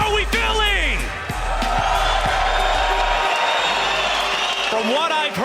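A loud, rowdy crowd at the World Series of Warzone Call of Duty esports event in London cheers and whoops throughout, close and sustained, while a host talks over it.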